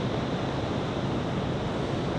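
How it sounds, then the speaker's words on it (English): Big Pacific Ocean waves breaking at the beach in Pacific City, Oregon, a steady, dense roar of surf heard from nearby with no voices. "Dude, those are big waves."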